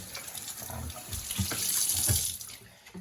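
Water runs and splashes as milking equipment on a homestead is rinsed and back-flushed, a close, continuous gush with uneven sloshing bursts and no voices.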